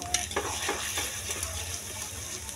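Eggs being stirred into noodles frying in a pan, with a constant close sizzle and repeated scraping, clinking strokes of a utensil against the pan.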